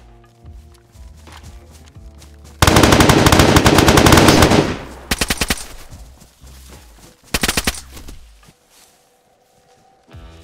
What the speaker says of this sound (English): your gun's loud, bro